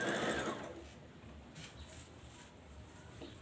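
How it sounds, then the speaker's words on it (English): A sewing machine back stitches a fabric pocket, a faint, close mechanical whir with a brief louder burst at the start and soft rhythmic clicks, no talk. "back stitch at each pocket."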